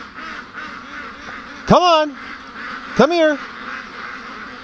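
A Muscovy duck gives two loud, harsh quacks a little over a second apart, close by, while a person talks throughout.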